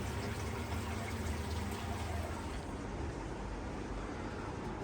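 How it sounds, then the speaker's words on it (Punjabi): Water gushing steadily from an outlet at the Rock Garden in Chandigarh, a loud, continuous broadband rush with no speech over it. "ਪਾਣੀ ਦੇਖੋ ਬਈ ਕਿਵੇਂ ਨਿਕਲ ਰਿਹਾ"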